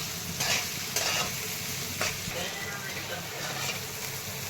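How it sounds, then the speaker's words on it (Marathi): Green chillies fry in hot oil alongside potatoes for sabudana khichdi. A steady sizzle runs throughout, with intermittent scraping taps of a spoon stirring the pan. "हिरवी मिरची टाकलेली आहे ती पण फोडकून घेते छान"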